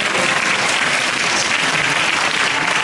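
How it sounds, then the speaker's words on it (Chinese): Sustained applause from a wedding audience for the groom, a steady dense wash of many hands clapping at close range with no pauses, no talk over it. "这个掌声是给新郎的吧？"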